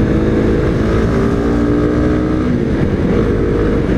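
A Kawasaki Z250SL single-cylinder 250 motorcycle with a long muffler runs steadily during a ride, a loud, continuous low engine drone with a rough, even texture and heavy wind rush throughout.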